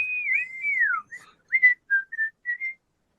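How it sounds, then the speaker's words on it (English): A person whistles a wavering, gliding melody, then a few short separate notes, clear and fairly close with quiet pauses between phrases. "his whistling was making mine better"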